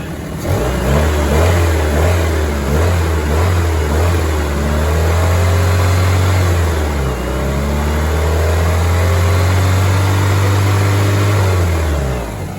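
A car engine revs loud and close, holding a steady high roar for about twelve seconds with slight dips in pitch before easing off at the end; no voices are heard.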